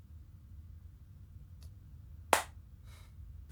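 A single sharp hand clap rings out clearly in a quiet room, preceded by a faint tap and followed by a soft rustle, with no talk.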